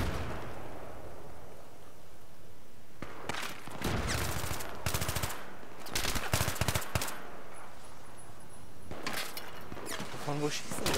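Rapid bursts of automatic gunfire in Battlefield 3 crackle repeatedly, mixed with sharp shots and booms, while someone talks over the shooting.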